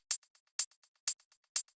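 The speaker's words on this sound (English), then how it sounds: "the next one is this hi-hat, which is playing on the upbeats, which sounds like this." Crisp minimal techno hi-hat hits land on the upbeats in a steady pattern, each bright tick followed by softer ghost taps, dry and isolated.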